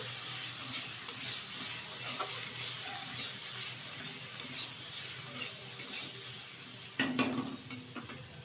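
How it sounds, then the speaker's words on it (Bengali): Potatoes fry in a pan with spices, salt and ginger paste for a fish curry, giving a steady, fairly quiet sizzle with occasional soft stirring and a brief clatter near the end, no voices. "এখন ভালোভাবে সবগুলো উপকরণ একসাথে কষিয়ে নেব"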